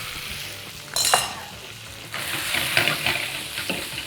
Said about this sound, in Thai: จากนั้นเนี่ยนะครับเราจะเอาเส้นไปคั่ว